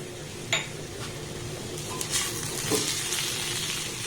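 A potato and raw mango mixture is stirred in a pan over a low flame, with a soft, steady sizzle broken by occasional clinks of a utensil against the pan.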